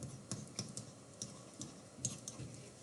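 Computer keyboard typing: soft, sparse keystroke clicks tapping out in an irregular rhythm, faint and close, with no voices.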